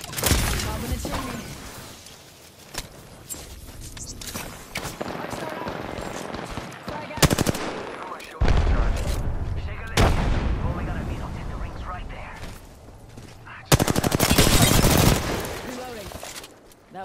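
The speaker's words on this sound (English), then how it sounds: "Taking fire! They're shooting at me!" Gunfire in a squad-based shooter video game: repeated loud bursts and single shots cut through a busy battle soundscape, with heavy reports clustered at several points and a voice calling out over the fighting.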